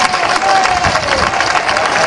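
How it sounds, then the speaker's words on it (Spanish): Audience applause and cheering from a carnival crowd greet Niña Pastori as she receives the carnival key, a dense, loud wash of clapping with a hint of voices mixed in throughout. "Y un fuerte aplauso para ella."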